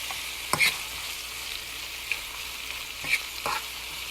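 Spinach and mushrooms searing in a pan on the way to a cream sauce, a steady close sizzle broken by a few sharp stirring scrapes and pops, with no talking.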